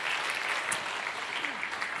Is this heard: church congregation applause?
yes